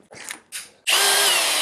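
A size 24 open-end wrench tightens a pipe fitting on an Intergas Xtreme boiler installation, two brief scraping clicks of metal followed by a loud, sustained gritty grinding burst lasting under a second, close to the microphone.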